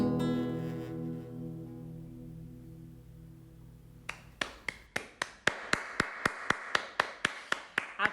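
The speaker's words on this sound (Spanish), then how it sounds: "Aplaudo en representación de todas las personas que están en sus casas en este momento" A single person claps steadily at home after a folk music performance, sharp close hand claps in an even rhythm starting after a sustained fading musical tone.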